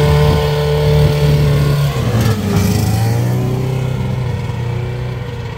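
An old snowmobile engine running rich idles and revs loudly up close, its steady droning tone dipping and rising again midway before easing off slightly toward the end.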